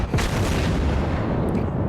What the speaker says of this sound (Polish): tylne działa wystrzelone, teraz leci salwa z przednich